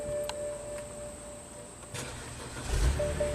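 A car with a no-crank, no-communication fault after a rainstorm starts up on a temporary fix: a steady warning chime sounds, then near the end comes a short crank and a low engine rumble catching, close by.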